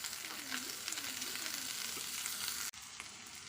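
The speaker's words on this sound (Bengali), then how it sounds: "জাস্ট এটা অল্প কিছুক্ষণ নেড়েই নামিয়ে নেব" Fried shrimp and chopped coriander sizzle steadily in a pan, the spatula scraping and stirring through the crackle, before the sound cuts off abruptly near the end.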